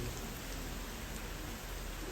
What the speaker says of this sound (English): Still raining. Raining all ding dang day.